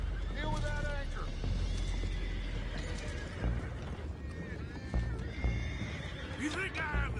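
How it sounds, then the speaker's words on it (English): Horses in the Red Dead Redemption 2 video game whinny and neigh several times, mixed with hoof clops and busy ambient noise, while people talk over the scene. "go find out about those horses down below"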